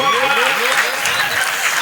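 Close, dense audience applause after a mimicry performance, a brief continuous burst of many hands clapping with a voice speaking over it.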